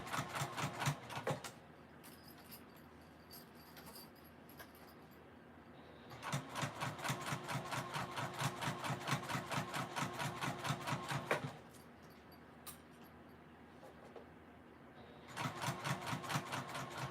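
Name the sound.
sewing machine stitching an emo bag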